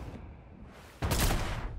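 Gunfire in the video game Fortnite, a sudden loud burst of rapid shots following a quieter stretch of game ambience, alone without talk.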